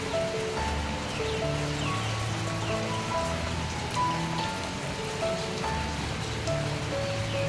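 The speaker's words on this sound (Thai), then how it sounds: "ฝนตกทั้งวันเลยวันนี้" Steady rain pattering on surfaces nearby in the rural countryside of Surin province, Thailand, under overcast skies, a continuous soft hiss with faint background tones and no talking.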